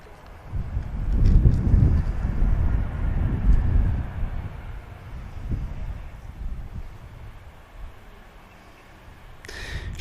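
An EasyJet airliner lands at an airport, its broad low engine rumble swelling early, then easing off under steady wind noise, with a brief hiss at the end.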